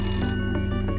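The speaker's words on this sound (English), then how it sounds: "my phone rang" A phone rings with a bright, steady electronic ringtone, a sustained tonal chime with rhythmic pulses, heard alone and fairly loud.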